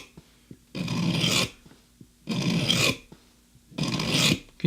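Knife blade being sharpened on a coarse, gravelly sharpening stone: three long rasping strokes, close and fairly loud, separated by short quiet gaps with faint taps, no talk.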